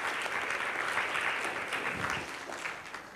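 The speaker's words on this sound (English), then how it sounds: "one round of applause for our wonderful panelists with us" An audience at a panel discussion on women leaders claps for the panelists, a brief, fairly faint wash of continuous applause with little else.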